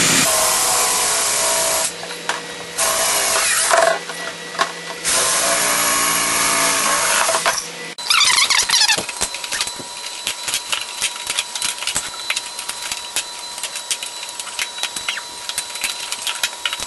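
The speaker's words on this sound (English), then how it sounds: "I'm using a drill with a huge knob at the end." A power drill whines in loud, sustained bursts with short pauses between, then shifts into a rougher, uneven grinding as it works through material.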